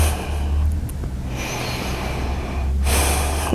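A deep breath during a gentle exercise session, drawn in and released slowly, loud and close against a low steady background hum.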